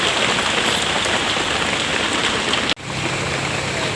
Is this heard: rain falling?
yes